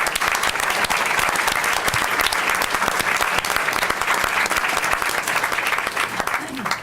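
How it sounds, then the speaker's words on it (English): Sustained applause at a school board of trustees meeting honoring guests, steady crowd clapping for nearly seven seconds before tapering off at the end. "Please join me in a round of applause"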